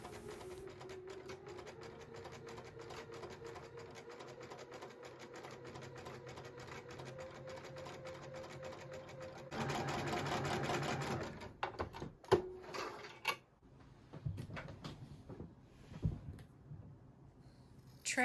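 A sewing machine chain-stitches quilt block pieces for a Sawtooth Star block in a steady, quiet mechanical whir, with a brief louder run and then short stop-start bursts and handling clicks.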